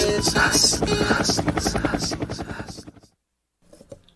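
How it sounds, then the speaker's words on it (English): A helicopter throbs loudly with a steady rapid rotor chop for about three seconds, then cuts off abruptly, leaving near silence with a few faint sounds at the end. "Catch this helicopter, man."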